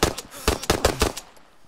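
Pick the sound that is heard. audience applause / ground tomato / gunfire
gunfire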